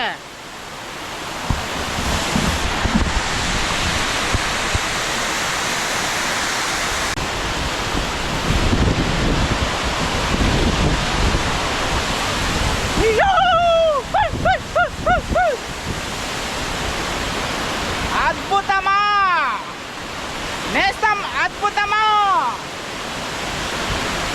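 A waterfall in dense forest near Araku's tribal villages sends out a loud, continuous broadband roar, with voices rising over it in short bursts during the second half.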